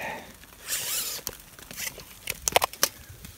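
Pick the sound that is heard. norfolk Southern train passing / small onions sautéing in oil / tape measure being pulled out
tape measure being pulled out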